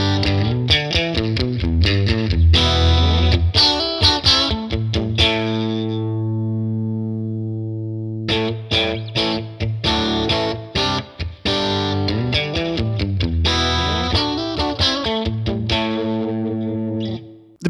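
Distorted electric guitar through an IK TONEX cabinet model with the resonance turned down for a thinner low end, playing loud chugging riffs and sustained chords with a brief held note mid-phrase, no talking.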